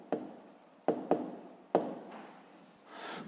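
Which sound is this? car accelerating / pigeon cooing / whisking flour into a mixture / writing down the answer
writing down the answer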